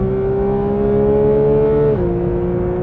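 A 2022 Porsche 911 GT3 with PDK gearbox on track at Road Atlanta holds a loud, sustained engine tone heard from the cabin, with the pitch dropping at a single shift near the end.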